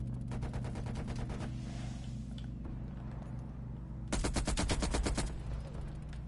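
A light machine gun, an M60 or MG82, fires in Call of Duty Cold War. There are two sustained bursts of rapid, evenly spaced shots, the second louder, separated by a quieter stretch of game ambience.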